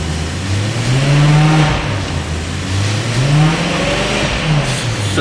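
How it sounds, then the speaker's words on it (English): A BMW E92 M3 with the 4.0 V8 idles and is blipped up toward 3000 RPM three times, each brief rising rev falling back to a smooth idle, loud and close. "we will give a little blip up to 3000 RPM to let you hear it"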